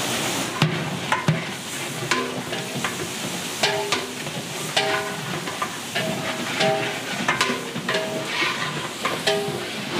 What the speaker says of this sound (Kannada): ಈರುಳ್ಳಿ, ಚಕ್ಕೆ, ಲವಂಗ ಎಲ್ಲ ಸ್ಪೈಸಸ್ ಎಲ್ಲ 10 ನಿಮಿಷ ಫ್ರೈ ಆದಮೇಲೆ